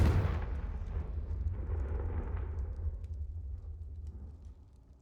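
A Confringo explosive spell detonates in the video game Hogwarts Legacy, a heavy low boom at the start that rolls into a long rumbling decay fading over several seconds, with no talk over it.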